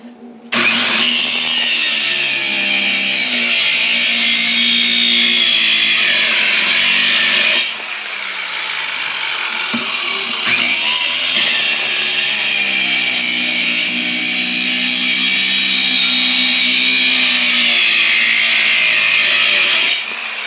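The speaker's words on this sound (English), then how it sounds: "I'm cutting some wooden blocks to block up the engine" Old cheap power saw cutting wooden blocks in a garage workshop, a loud continuous whining rasp for several seconds, a short pause, then another long sustained cut.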